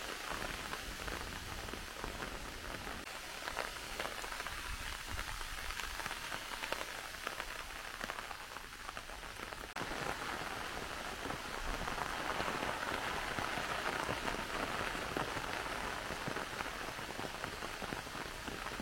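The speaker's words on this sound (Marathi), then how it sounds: "मुसळधार पावसाला सुरुवात झाली आहे बघा." Heavy rain pours steadily, a dense, even hiss of drops striking surfaces that holds for the whole stretch with no voices.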